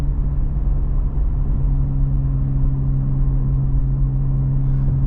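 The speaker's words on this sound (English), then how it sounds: "right now I'm really happy with how loud the car is" A Honda Civic Type R FL5 hatchback on a night drive gives off a steady, loud low engine and exhaust drone as it cruises at a constant pace, with no voices.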